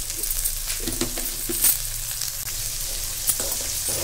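Rock salt and turmeric sautéing in oil in a pan for a green turkey berry kulambu, a loud continuous sizzle with a few scraping stirs and light clinks, no voices.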